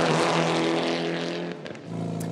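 Onboard engine of a gravel-stage rally car on the Wairarapa round of the rally series, loud and close, a sustained high-revving drone that dips briefly with a gear change or lift before pulling hard again.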